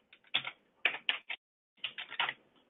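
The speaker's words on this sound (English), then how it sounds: "I'm going to use my keyboard over here." Quiet, close bursts of computer keyboard typing, clusters of quick key clicks separated by a short pause, with no talk.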